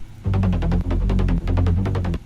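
A deep, throbbing synth bass plays in pulsing, rhythmic notes with buzzy upper harmonics, loud and close, pausing briefly twice.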